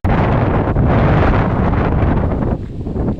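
Strong wind on a hilltop at Chovar near Kathmandu roars and buffets the microphone in loud continuous gusts, easing briefly near the end before surging again, with no one talking.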